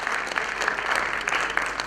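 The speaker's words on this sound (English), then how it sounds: "Please give him a huge round of applause." An audience at a Mr. North India 2015 pageant gives loud, dense applause. Steady clapping from many hands continues throughout, with a few sharper individual claps standing out.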